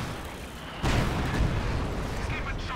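British artillery fire in a WWII strategy game, with a sudden heavy blast followed by rolling booms and rumbling impacts that continue through the rest of the clip.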